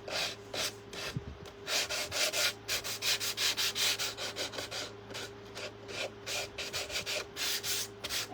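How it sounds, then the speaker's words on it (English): Worn, well-used sandpaper is rubbed back and forth over painted wood in steady rhythmic scratchy strokes, close and fairly loud, with a faint constant electrical hum beneath. "It'll probably do better if I got a better piece of sandpaper"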